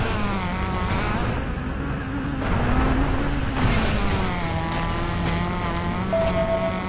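A dune buggy engine drones steadily in the racing video game Driver San Francisco, a continuous rising and falling motor hum with mild revving throughout.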